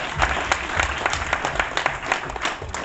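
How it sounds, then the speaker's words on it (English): Audience at a movie Q&A at Studio 35 applauding, a dense, steady wash of many hands clapping fairly close, with a few sharper claps standing out over the crowd. "give yourself a round of applause for God's sake"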